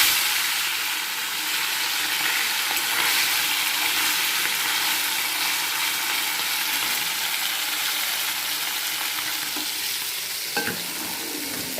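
Fish pieces rubbed with salt and turmeric fry in hot oil, giving a loud, continuous hiss and sizzle close up, with faint clinks and stirring noises near the end.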